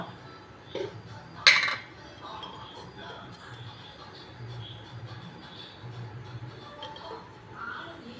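A spoon stirs a fish peera mixture with water and salt in a pot. Scattered metallic clinks and scrapes sound close by, and the loudest knock comes early.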